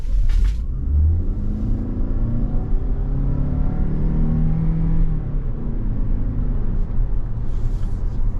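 A 2023 Toyota RAV4 Prime XSE AWD pulls away from a standstill, its engine and drivetrain rising in a steady loud rumble and whir as it accelerates, heard from inside the cabin.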